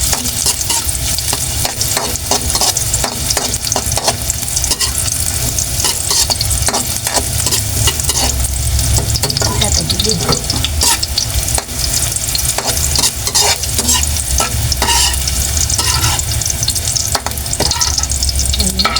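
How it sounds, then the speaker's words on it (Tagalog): Carrots fry and get stirred in a pan for sweet and sour tilapia, a steady close sizzle with frequent scraping and clattering stir strokes running continuously throughout, no talking. "Prituin ko lang po saglit itong carrots para sure na luto na siya."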